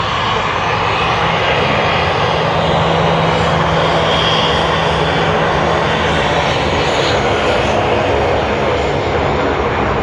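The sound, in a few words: Japan Airlines JL52 aircraft taxiing at Sydney Airport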